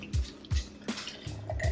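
Ginger gut tonic concentrate is poured into a glass in a few short glugging splashes and drips, close up and fairly quiet, with no talking.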